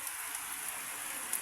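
Steady rain falls through the night outdoors where young chicks shelter, a continuous, even hiss of drops close by with no voices.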